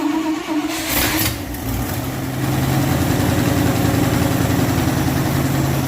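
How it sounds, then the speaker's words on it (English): A 1962 Dodge D200 pickup with a Semi Hemi engine cranks briefly, then catches and settles into a steady, rumbling idle, the low, loud throb holding evenly for several seconds with no talking. "start her up, Sad."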